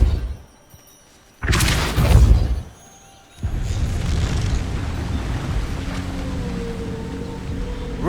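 Depulso spell cast in Hogwarts Legacy, a loud whooshing blast followed by a second burst and a lingering rumbling roar, with no talk.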